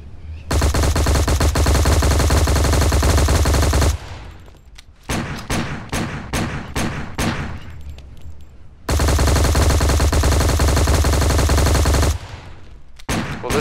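Loud, close automatic gunfire in the War Inc. Battlezone shooter: two long unbroken bursts of rapid fire, separated by a short run of distinct single shots.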